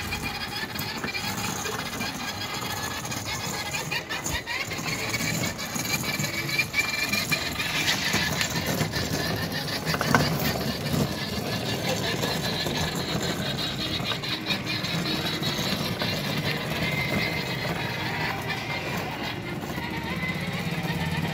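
A motorcycle engine runs steadily along a road, a continuous rattling drone mixed with wind and road noise, fairly even in loudness throughout with faint talk now and then.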